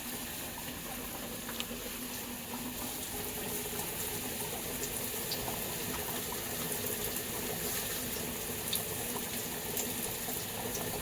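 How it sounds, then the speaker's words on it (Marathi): Fish curry boils steadily in a pan on the stove, giving a continuous bubbling, simmering hiss at a moderate level with no voices over it. "कालना पण उकळा बघा कसा आलाय मस्त"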